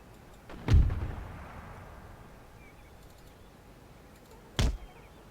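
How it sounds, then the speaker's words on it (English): Mortar fire on a battlefield in the video game Empire: Total War. Two heavy booms land about four seconds apart; the first is louder and trails off in a rolling rumble, and the second is a sharp, shorter thud. "That's those damn mortars."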